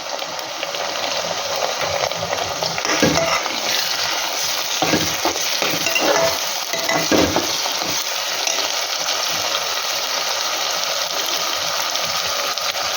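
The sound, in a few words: ginger garlic paste frying and being stirred for mutton kosa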